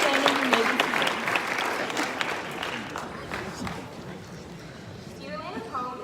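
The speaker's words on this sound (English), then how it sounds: "a round of applause." Audience applause at a Veterans Day concert, a dense round of clapping that is loudest at the start and gradually thins and fades over several seconds.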